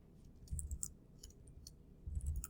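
Typing on a computer keyboard: a few quick bursts of clicky keystrokes, close and fairly quiet, separated by a short pause.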